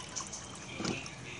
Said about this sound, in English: So I pour the water on the my favorite mug.